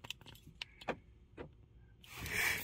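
Central locking on a BMW 5 Series with an intermittent unlocking fault gives a series of small sharp clicks and taps at close range, followed by a louder rushing rustle at the end.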